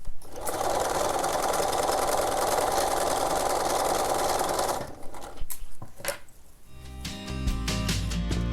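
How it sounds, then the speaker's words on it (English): Sewing machine stitching a romper seam, turning a corner and running straight along a previous stitch line; a steady, loud continuous whir for about five seconds, then stops, followed by brief handling clatter. "we're turning that corner and stitching straight across, right along our other stitch line"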